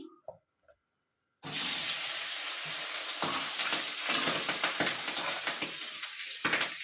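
Fish frying in hot oil on a home stove, a loud continuous sizzle with sharp spluttering pops that starts abruptly after a brief quiet moment with a few small clatters.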